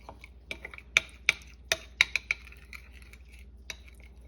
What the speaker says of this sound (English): Okay, you're gonna mix this up.